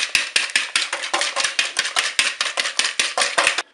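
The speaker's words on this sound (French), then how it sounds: "Je commence par mélanger le beurre avec le sucre." Butter and sugar being mixed, a fast regular beat of sharp utensil strikes against a bowl, about five per second, close and crisp, running for several seconds and then stopping abruptly.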